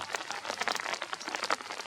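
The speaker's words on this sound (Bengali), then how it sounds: "বৃষ্টি এখন কমে যাচ্ছে আস্তে আস্তে" Light rain falling on an open field, a soft, steady patter of drops that stays fairly quiet throughout, with no talking.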